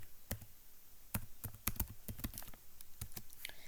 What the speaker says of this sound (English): So now if I type it right,